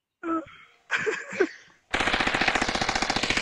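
Rapid automatic gunfire in VRChat, a loud, dense burst of evenly spaced shots that comes in after a couple of short voiced sounds and continues to the end.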